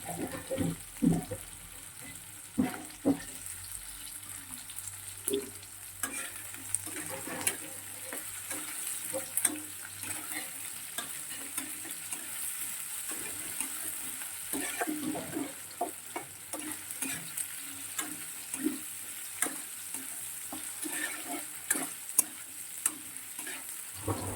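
Potatoes fry in a pan while being stirred, with a soft, continuous sizzle broken by frequent scraping and clattering spatula strokes, fairly faint and steady.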